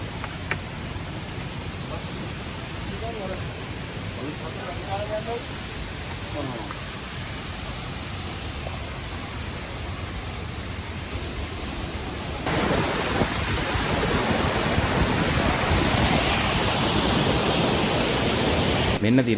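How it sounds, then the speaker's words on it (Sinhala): The Kabaragala waterfall at Mandaram Nuwara rushes in a steady broadband roar, running low on water, heard nearby and growing louder partway through, with voices faintly over it. "මෙන්න තියෙනවා කබරගල ඇල්ල."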